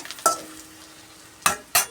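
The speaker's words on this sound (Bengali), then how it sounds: "আর ওই তেলেই পেঁয়াজ রসুন আর কাঁচা লঙ্কা ভেজে নিচ্ছি।" Onion, garlic and green chili fry in oil in a pan, a quiet sizzle punctuated by three sharp scraping stirs of a spatula.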